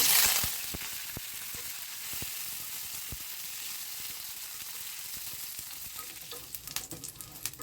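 Mustard seeds, dried red chillies and curry leaves frying in hot oil for a tempering, making a loud close hiss with crisp popping crackles that settles into a steadier sizzle, with no voices.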